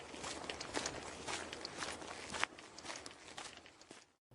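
Quick footsteps of a person walking briskly along a path, a steady run of soft thuds and scuffs heard close by, on their own, then stopping abruptly near the end.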